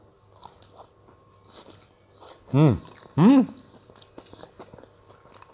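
Fried wonton (pangsit goreng) is bitten and chewed up close, giving two loud crunching bites in the middle. Soft chewing and a few murmured sounds of enjoyment come before and after.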